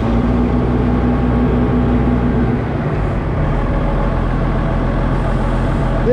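An IH TD20G Dresser bulldozer's diesel engine running with a loud, steady low rumble and idling drone that holds even throughout, close by with no speech.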